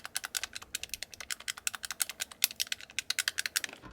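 Buttons on a NYXI Wizard GameCube-style controller for Nintendo Switch are pressed in a fast run of crisp, close clicks, about a dozen per second. The clicks are quiet and there is no talking.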